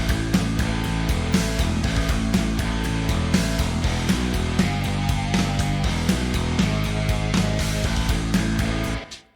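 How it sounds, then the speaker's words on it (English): Dense, loud metal band plays at full tilt, with pounding drums, bass and double-tracked guitars forming a thick wall of sound, then stopping abruptly at the end. "So pretty standard drums, bass, double-tracked guitars."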